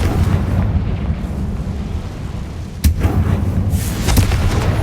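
A Confringo fire spell blasting in the Hogwarts Legacy video game, a loud rumbling explosive roar with a sharp crack midway and a further burst after, dense and close throughout.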